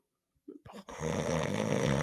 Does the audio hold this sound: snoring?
yes